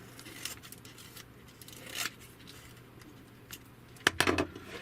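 Scissors cutting covering material on a 68-inch DHC-1 Chipmunk RC model plane, a few scattered snips and then a quick close burst of crisp cuts near the end, with no talk.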